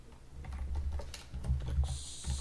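Rapid clicking keystrokes on a computer keyboard, a quick irregular run of taps close to the mic with no talking over them.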